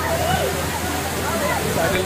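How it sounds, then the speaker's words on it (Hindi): The Alokung waterfall in Arunachal Pradesh roars in a loud, constant wash of rushing water, with someone talking over it throughout. "बहुत शानदार झरना है, आप लोग आइएगा।"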